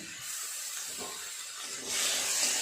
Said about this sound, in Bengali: এই তেলে চিংড়ি মাছগুলো ভেজে নেব